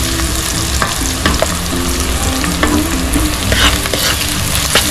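Garlic sizzles loudly in a pan for ginisang monggo, a dense frying crackle punctuated by repeated scraping and clanking of the spatula as it is stirred, close up and without talk.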